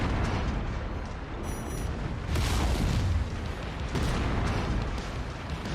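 Mech weapons fire and explosions rumble in MechWarrior 5: Mercenaries during a base assault, a continuous heavy barrage with repeated booming blasts landing every second or so.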